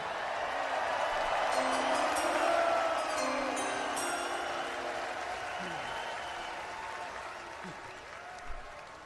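A large crowd at the NFL Draft claps and cheers in a long, loud swell of applause that slowly tapers over about nine seconds, with some voices mixed in.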